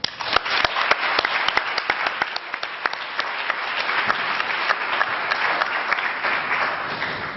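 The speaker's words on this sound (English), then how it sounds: "Please join me in applauding Lenore." An audience at an evening panel event applauds steadily, dense sustained clapping from many hands filling the room throughout, with no talking over it.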